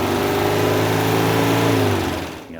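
A 1972 Porsche 914 mid-engine with a throaty Volkswagen-type flat-four revving close by, loud and steady, pitch rising and falling slightly before cutting off.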